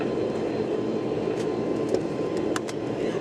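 A light aircraft idles on the runway while lining up for takeoff, its engine a steady, dense drone filling the cabin with a few brief higher clatters on top; no one speaks.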